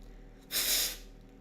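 A sharp nasal snort aimed at blowing out three candles in a single go, one loud burst of breath lasting about half a second, close and alone.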